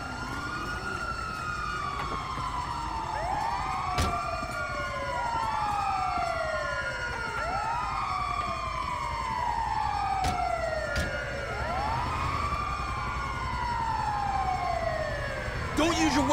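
A video game ambulance siren wails, sweeping up and down repeatedly in a steady rising-and-falling pattern, loud and continuous over a low engine rumble.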